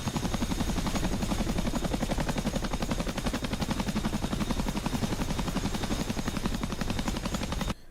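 Chinook twin-rotor helicopter in the DCS flight simulator game, a loud continuous rapid rotor chop with heavy thumping blade beats and engine roar throughout, cutting off abruptly at the end.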